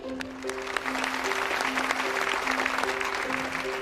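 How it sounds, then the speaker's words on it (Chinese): A hall audience applauds at the opening of a cooking championship as a speaker is called to the stage. The steady clapping runs throughout under a looping musical fanfare. "让我们掌声有请"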